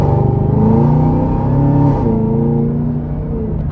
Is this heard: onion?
no